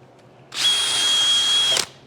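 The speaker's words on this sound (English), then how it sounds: "See all this stuff I'm wire brushing off?" A wire brush spins on a power drill against a sawmill head block, giving one steady, loud, close whir of just over a second that starts and stops abruptly.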